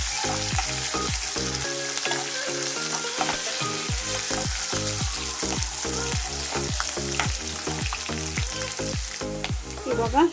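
Green chillies and curry leaves frying in hot oil for girmit, a North Karnataka snack, give a steady close sizzle broken by rapid repeated scraping of a spoon stirring the pan, with no voices.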